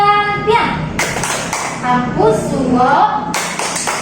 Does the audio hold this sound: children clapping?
yes